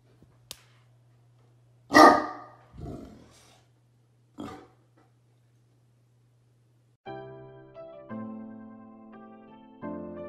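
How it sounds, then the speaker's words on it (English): A dog gives a few loud, separate barks close by, then falls quiet while a short musical tune plays. "what's he barking at?"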